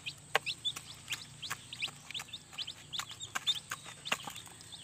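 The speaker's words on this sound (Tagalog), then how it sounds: "isa lang itim ng manok" Chickens clucking in a yard on a cold day, a faint scatter of short repeated clucks and calls from several birds, fairly close and without talk.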